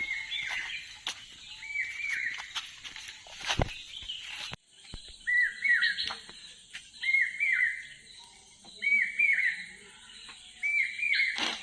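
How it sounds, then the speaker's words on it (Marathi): A cuckoo's repeated rising whistled call, four or five times at regular intervals, clear against quiet surroundings with some faint chirps earlier. "कोकिळाचा आवाज आहे का?"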